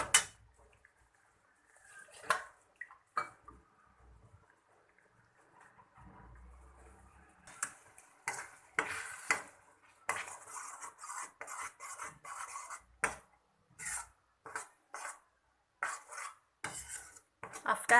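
Masala paste being stirred into cooked onion and tomato sambar in a pot, a spoon scraping and clinking against the metal in quick irregular strokes, close and busy with no talking.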